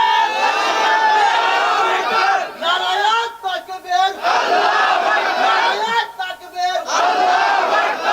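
A large crowd at an Islamic sermon (waz) loudly chants takbir, Allahu Akbar, in repeated surging unison shouts with short dips between calls.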